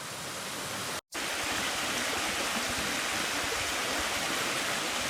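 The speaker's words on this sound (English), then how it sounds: "Go up the trail here to the left to check out that water, that stream." Water rushing steadily in a mountain stream along a trail, a dense, close, continuous hiss with no voices, broken only by one brief cut to silence near the start.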